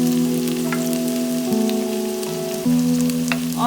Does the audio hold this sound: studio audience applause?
no